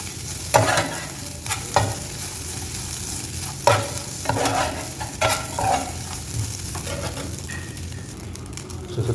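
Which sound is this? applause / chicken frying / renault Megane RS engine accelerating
chicken frying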